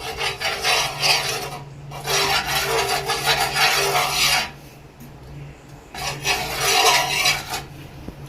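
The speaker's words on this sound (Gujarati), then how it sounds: "જે આપણે આ કોટનનો રૂમાલ લીધો છે તેનીથી આપણે આ રીતે લૂસી લઈશું" A cotton cloth rubs across a hot dosa pan in three long scraping passes, each a rough, rasping swipe with short pauses between, close and fairly loud.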